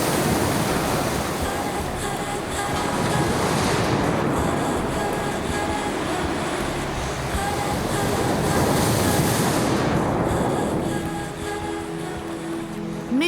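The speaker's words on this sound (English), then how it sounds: "by the waves pounding at its shores" Ocean waves roll and crash against the shores of Midway Island, a steady loud wash of surf that swells and recedes, fading toward the end.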